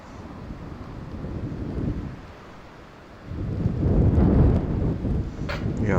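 Strong wind gusting outdoors on a golf course, roaring and buffeting the microphone in two surges, a lighter rush followed by a heavier, sustained blast toward the end.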